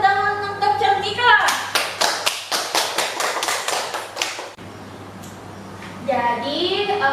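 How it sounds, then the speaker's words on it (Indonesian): A classroom bursts into applause, a burst of rapid clapping lasting a few seconds, with a teacher's voice talking before and after. "Beri tepuk tangan untuk Cantika."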